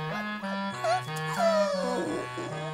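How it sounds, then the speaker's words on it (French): Cartoon dogs whimper and yip in a run of high, wavering, sliding whines, close and fairly loud, over a steady musical score with no talk. "Nos petits chiens n'ont pas l'air dans leur assiette."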